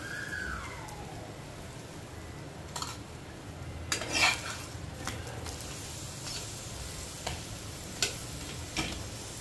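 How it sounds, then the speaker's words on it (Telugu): Mashed potato filling for aloo paratha being mixed with ghee, a quiet spoon working through a bowl with scattered clinks and scrapes against the dish. "నెయ్యి వేసి కలుపుతున్నానండి"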